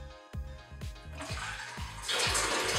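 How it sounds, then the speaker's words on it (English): Water is poured into a funnel, with hollow glugging pulses repeating at a steady rhythm and a brighter splashing rush building toward the end, close and clear. "When I pour water into the funnel, a current of water flows through."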